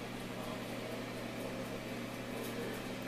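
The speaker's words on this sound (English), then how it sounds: "Wings are in the air fryer." A steady, even hum of an air fryer running with chicken wings inside, a constant whirring drone with a low mechanical tone that holds unchanged throughout, fairly close and with no speech over it.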